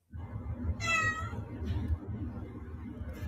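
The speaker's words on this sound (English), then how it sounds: "Cats are so funny, man" A cat gives a clear, loud meow of about half a second over a steady rumble of room noise and movement, with nobody speaking.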